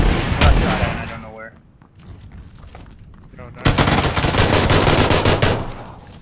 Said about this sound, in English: even I can hear that shooting. That's so loud.